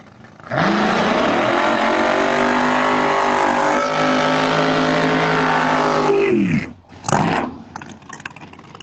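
Drag race car at a Bradenton Motorsports test session during the US Street Nationals, roaring loud and steady at full throttle for about six seconds, then cutting off abruptly, followed by a short second burst and fading engine noise.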